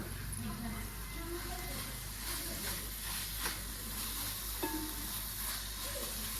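Carrot halwa stirred continuously in a pan, a soft steady sizzle and scraping with faint clinks, fairly quiet and unbroken by speech.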